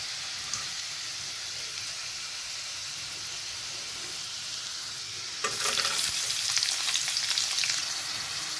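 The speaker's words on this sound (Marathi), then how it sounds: "तुम्ही बघू शकता मी कांदा आता फोडणीमध्ये टाकलेला आहे." Chopped onion sizzling in hot tempering oil for a dry bitter gourd dish, a steady crackle of frying that jumps suddenly louder and brighter partway through, no voices.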